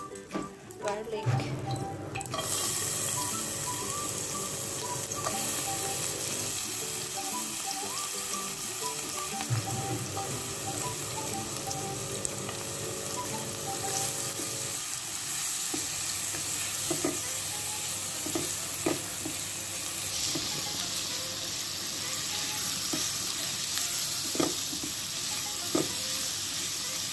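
Garlic sautéing in a little olive oil for a Filipino vegetable dish, a steady close sizzle with occasional stirring scrapes, continuing alone without talk.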